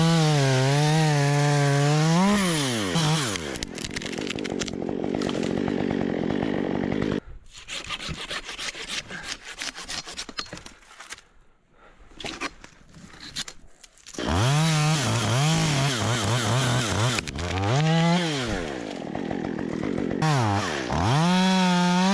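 A chainsaw cuts tree branches during large-scale forest logging, loud and close, revving hard in long bursts. It drops to quieter idling and sputtering in the middle before roaring back up.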